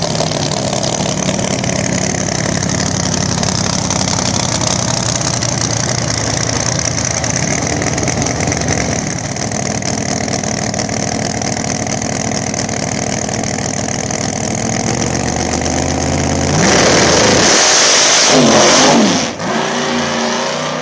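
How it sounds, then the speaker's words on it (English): Ford Mustang drag car on small radial tires with a big nitrous engine, rumbling loudly and steadily near at a drag strip, revving and building, then a sharp burst of hard acceleration near the end. "Todd Sutter, her big style Mustang"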